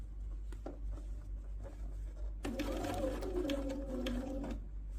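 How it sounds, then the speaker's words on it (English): A sewing machine back stitches and then runs a straight seam along a split waistband, a quiet start giving way to a steady, loud mechanical whir close by with no talking. "I'm going to back stitch, and then I'm going to straight stitch all the way until I get to the bottom of that edge"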